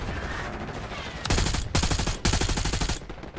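Bursts of rapid automatic gunfire crack out in Call of Duty Black Ops 6, two or three loud sustained volleys in close succession over quieter game ambience.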